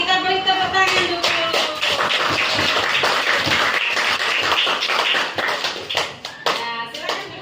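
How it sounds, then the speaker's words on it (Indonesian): A school class claps for several seconds, many hands making a dense, fairly loud patter that thins toward the end as children's voices mix in. "Kita beri tepuk tangan dulu"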